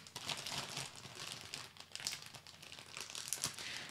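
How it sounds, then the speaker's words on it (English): A one-gallon plastic bag crinkles and rustles as it is zipped closed over a Sony A7 III camera with a Sigma 35 Art lens, a close, busy crackling with sharp bursts and no talking. "And zip it tight."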